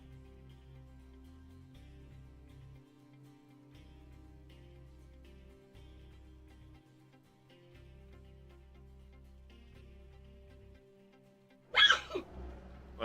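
A single sharp sneeze bursts out near the end, loud and close, after a long stretch of quiet low hum with faint background tones.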